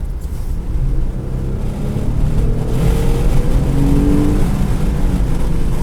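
A Jeep JL Wrangler accelerating, heard from inside as a loud, steady engine drone that builds and climbs in pitch with road rumble underneath, continuous throughout with no talking.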